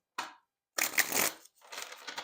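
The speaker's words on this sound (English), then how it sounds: "that was a long shuffling session" Tarot cards being shuffled by hand, heard in close bursts: a short riffle, a longer rustling stretch, then another run of papery shuffling with brief silent gaps between them.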